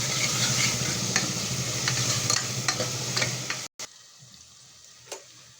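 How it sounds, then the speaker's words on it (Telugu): Ginger garlic paste fries in a hot pan with a steady, close sizzle and occasional stirring scrapes, then cuts away abruptly to a much quieter sizzle near the end. "ఒక 2 స్పూన్లు అల్లం వెల్లుల్లి పేస్ట్ వేసుకొని బాగా వేగనియాలి"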